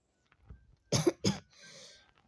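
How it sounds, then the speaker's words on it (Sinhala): A man coughs twice in quick, sharp bursts close to the mic, then gives a softer breathy rasp, while playing the horror game Slendrina The Cellar. "සමාවෙන්න ෆ්‍රෙන්ඩ්ස් පොඩි කැස්සක් ආවා."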